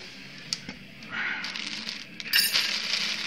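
Used automatic transmission friction discs from a Ford Explorer 4R55E gearbox handled by hand, a few sharp metallic clinks and rustling clatter close up, with no talk.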